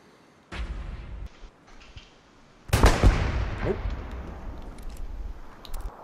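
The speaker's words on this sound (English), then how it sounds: "My ears are finely tuned specifically for the artillery decibel." Artillery shells landing in the WWII shooter Hell Let Loose: a mid-range thump, then a much louder, closer blast around three seconds in whose rumble lingers, with quieter crackles and clicks before and after.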